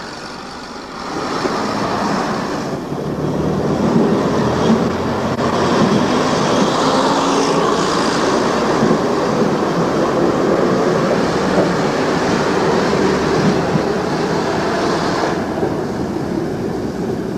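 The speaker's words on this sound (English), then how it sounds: "Joining our diesel multiple unit, or DMU for short, we leave Whitby Town Station" A diesel multiple unit train pulls out of Whitby Town Station, its engine rumble and wheel clatter building into a steady, loud drone that holds throughout.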